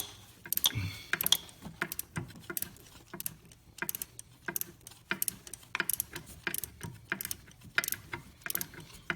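A 10 mm socket on a ratchet backs off a timing chain cover bolt on a Buick GM 3800 Series II engine, giving a run of quick, light ratcheting clicks close by with short pauses between bursts.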